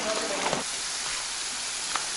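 Waterfall at Ubud, Bali, a steady broadband rush of falling water filling the whole clip at moderate level, with a brief voice briefly heard over it.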